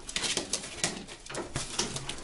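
Several racing pigeons coo softly and repeatedly nearby in a breeding loft, their murmuring calls overlapping against a rustling background.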